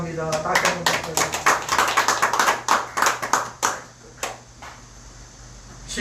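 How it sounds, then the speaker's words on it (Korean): A small church congregation claps in a brief burst of applause that quickly thins to a few scattered claps, with a low hum underneath. "다시 한번 박수."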